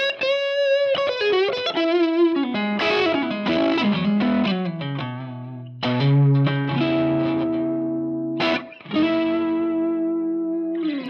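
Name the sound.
Strat electric guitar neck pickup tone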